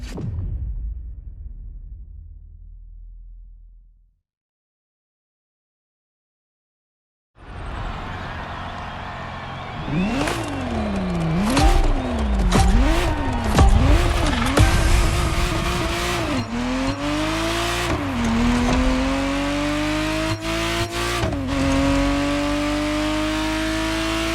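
A Ferrari Testarossa engine in The Crew Motorfest starts after a brief silence, then revs loudly in several sharp bursts before climbing through gears with rising pitch, close and continuous.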